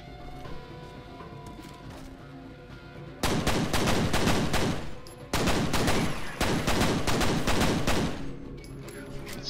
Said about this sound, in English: I wonder if the pistol is still like super OP in this